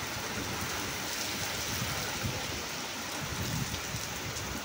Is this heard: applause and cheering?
no